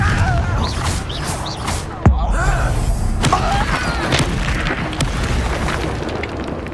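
A Confringo fire spell explodes in the Hogwarts Legacy video game: a sharp burst around the middle of a dense, loud bed of crackling, whooshing game effects and rumble.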